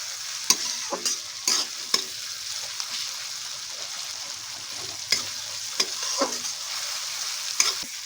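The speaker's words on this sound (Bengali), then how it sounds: "এবার আমরা রসুনটা দিয়ে দেবো, দিয়ে আমরা একটু 2 মিনিট নাড়াবো।" Garlic stirred into softened tomato and onion in a frying pan: close, continuous sizzling broken by repeated spatula scrapes and taps at an uneven rhythm, with no voices.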